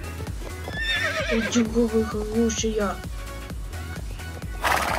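A horse neighs in the online horse-riding game Star Stable Online, a wavering whinny rising and falling over a few seconds, with hoof clip-clops and music underneath and someone talking over it.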